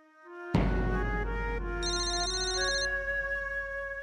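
A phone ringtone plays loudly and clearly, a sustained electronic melody with shifting tones, close by with no talking.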